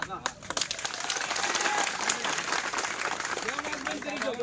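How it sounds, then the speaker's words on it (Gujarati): Crowd at a Koli community gathering claps steadily, a sustained patter of many hands that swells after the first second and runs under a man's amplified speech. "આજ તમે આજ તાળી પાડો છો"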